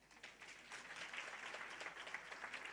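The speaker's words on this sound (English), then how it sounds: "Can you clap hands for her?" Audience clapping hands at an official unveiling ceremony, soft, distant, continuous applause at low volume throughout.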